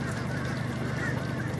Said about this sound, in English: That sound we're hearing, those are fish crows, and they're a little bit smaller than a common crow.